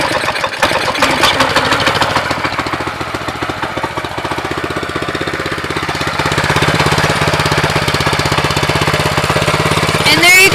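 A cold Baja minibike's small single-cylinder engine sputters into life and keeps running with a loud, rapid, rattling putter. The sound is very close, and the rhythm quickens and steadies as it settles into a hard idle.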